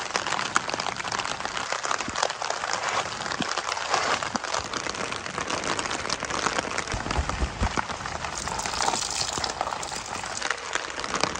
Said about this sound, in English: By midnight, rain returns, and the wind begins to howl around her tent.